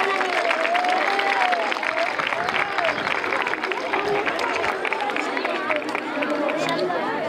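An audience at a Women's Day event applauds as names appear, steady dense clapping mixed with crowd chatter and a few voices talking over it throughout.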